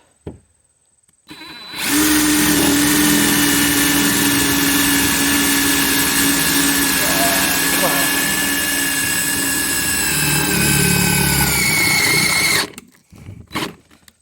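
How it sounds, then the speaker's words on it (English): A power drill boring a hole into an old abandoned semi trailer runs loud and continuous for about eleven seconds, starting abruptly and stopping sharply, close by. "we'll drill out hole number 3"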